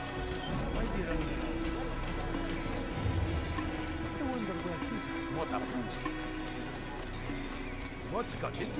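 Rapid hoofbeats of a galloping horse in the first Assassin's Creed game pound along under layered game sounds and music, with a brief whinny partway through.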